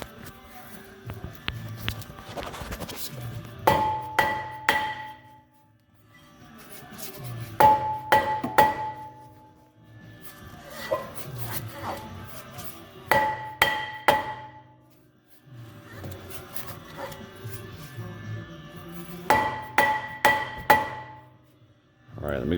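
A hammer strikes a brake rotor on the hub of a 2019 Jeep Grand Cherokee in loud, close clusters of metallic blows, with quiet pauses between the bursts.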